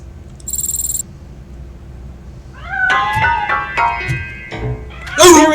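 A cat in the RoboCop Rogue City video game meows several times in quick succession, rising and falling cries close by after a quiet stretch, ending in a louder yowl.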